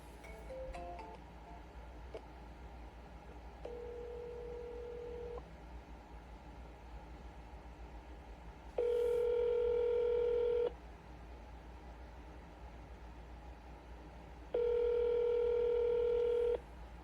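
Touch-tone keypad beeps from a cold sales call, followed by a steady ring tone that repeats in long spaced bursts over a faint low hum, with no one answering.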